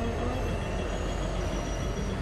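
A train moves through a video game, giving a short, steady rumble of rolling wheels at moderate loudness with no speech.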